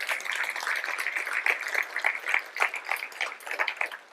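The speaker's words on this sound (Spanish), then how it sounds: "Denle un aplauso a su Señor." A church congregation applauds at a Sunday service, steady dense clapping spread through the room at moderate loudness for several seconds, with no talking over it.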